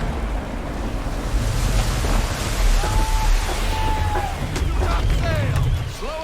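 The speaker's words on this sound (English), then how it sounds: "Gusty winds can be difficult to manage." Gusty wind roars over open sea and surf in Assassin's Creed III, a steady loud broadband rush under occasional faint tonal calls, with brief talk in the background.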